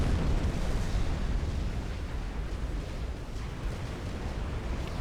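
T3 mechs exploding in the real-time strategy game Supreme Commander: Forged Alliance, heard as a dense, continuous rumble of overlapping booms and bursts that stays loud throughout, with no voices.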